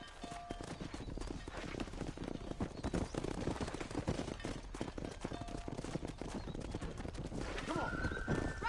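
Horses gallop in a Red Dead Redemption cattle drive, steady hoofbeats under constant outdoor ambience, with whinnies and short neighs breaking through, distant shots, and a voice talking over the scene.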